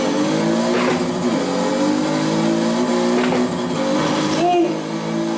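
Toyota Supra drag car on drag tires racing in Forza, a loud, steady engine drone with rising revs and a brief tire squeal near the end, continuous throughout, with faint game sounds in the mix.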